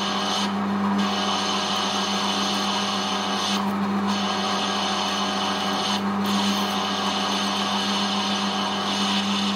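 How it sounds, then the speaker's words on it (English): A metal lathe parting off a coin from a slug, lubricated with isopropyl alcohol, a steady close machining drone with a low hum and brief dips in the cutting noise. "I've brought that coin to size now and we need to part it off from the slug."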